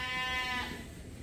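A single sheep bleats up close on a farm, one short wavering cry that fades after about half a second, with no talk.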